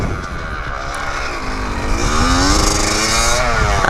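A Kawasaki KX85 pit bike engine runs close by, its revving tone rising and wavering as the throttle opens, growing louder toward the end.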